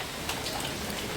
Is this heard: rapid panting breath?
no